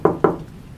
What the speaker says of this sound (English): Then came the knock. Too hard, too late, too wrong.